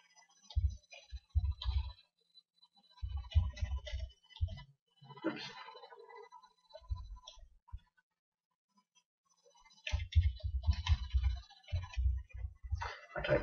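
Typing on a computer keyboard while setting up a folder for a small business product, with bursts of quick clicking keystrokes separated by short pauses, fairly close and alone with no talking.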